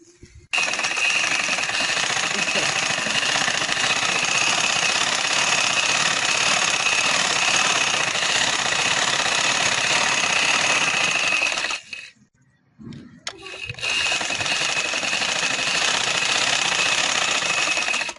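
A sewing machine stitches the open slit of a shirt, running as a loud, steady, rapid whir for about eleven seconds, stopping briefly, then starting up again and continuing alone.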